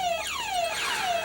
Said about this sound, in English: I'll go ahead and push ours now and see if we have a police panic alarm.